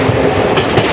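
A train runs along the Sri Lankan coast, heard from its open doorway as a loud, close rolling rumble with rhythmic wheel clatter.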